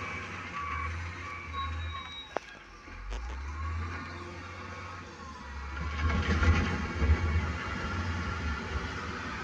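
A backhoe loader working beside a river gives faint repeated reversing beeps over a low rumbling diesel engine, heard from some distance as the engine note rises toward the end.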